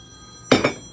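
A mobile phone rings with two short, loud bursts of bright electronic tone in quick succession, following a near-silent moment.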